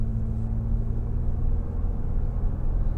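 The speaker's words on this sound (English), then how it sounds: "let's go ahead and take it on the road for a quick test drive" A 2011 Toyota Sienna XLE minivan with a 3.5 liter V6 and 180k miles drives on the road, its engine and road noise forming a steady, close, low rumble heard from inside the cabin with no talking.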